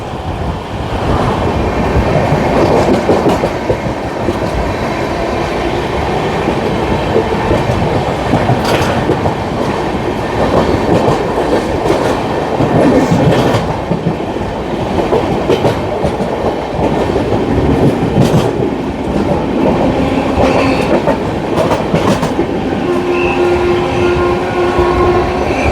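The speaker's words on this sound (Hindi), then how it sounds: "भाई दोस्तों फिर से ओवरटेक हो रहा है किसी ट्रेन का बगुआ रोड पे।" The Odisha Sampark Kranti from Tatanagar to Delhi rolls loudly near Bagua Road while overtaking another train, with a continuous heavy rumble and clickety-clack of wheels on rails, punctuated by sharp clatters and a horn near the end.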